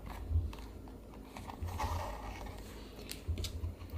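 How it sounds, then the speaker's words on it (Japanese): Thread is pulled through leather as someone hand-stitches a slim glasses case, giving soft rasping pulls and small creaks in a loose, repeated rhythm. The sound is close and quiet. "一目ごとにしっかり引いてやると縫い目がきれいに揃ってきますので、丁寧に縫い進んでいってください。"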